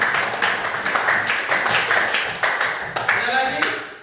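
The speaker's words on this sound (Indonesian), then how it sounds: "Ya, tepuk tangan." A classroom group claps hands together in a steady, dense patter during a teacher-training lesson on peace and cultural differences, sustained for several seconds with voices mixed in.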